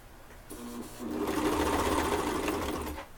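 Sewing machine running steadily while stitching a mitered corner on a wrap dress, starting with short bursts then a sustained, close whirring run for about two seconds before slowing.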